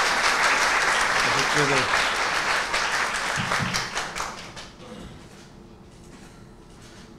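An audience at a hospital's 25th anniversary celebration applauds as the Zeytinburnu mayor takes the stage, a thick burst of clapping that fades out over the last seconds before a voice speaks.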